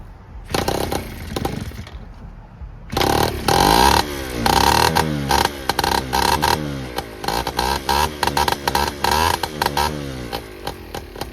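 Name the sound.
big bore Honda Express moped engine running after kick start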